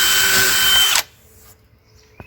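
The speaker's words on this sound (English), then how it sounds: "We're going to put a couple of screws in." A power drill driving screws through the brick mold of a prehung exterior door, a loud, steady close whir for about a second that stops abruptly, followed by near silence and a small knock.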